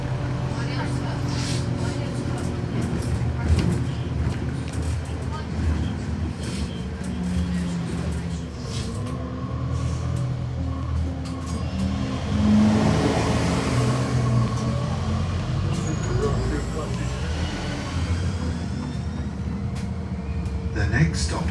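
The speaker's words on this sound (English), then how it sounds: "it was an Opta Solo SR, so it was quite boring and it had one of the new Mercedes engines which sound extremely dull" An Optare Solo SR bus with a Mercedes engine drives along as heard from inside, a steady low drone with rises in engine note, and a voice talks over it at times.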